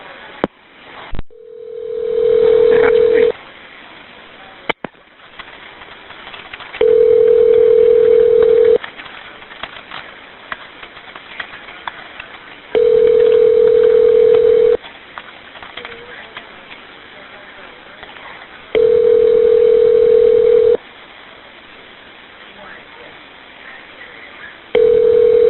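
A phone call ringing out unanswered before reaching voicemail, a steady ringback tone repeating four times in long even pulses separated by gaps, with faint voices and noise between rings.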